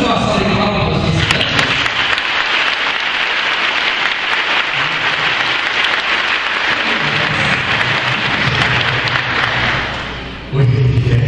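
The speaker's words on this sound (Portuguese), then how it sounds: "Mas vamos fazer uma salva de palmas para vocês." A church congregation breaks into dense, rain-like applause that holds steady for several seconds, then dies away as a voice returns at the end.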